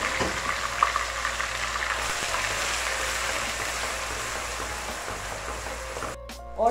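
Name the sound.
onion paste frying in oil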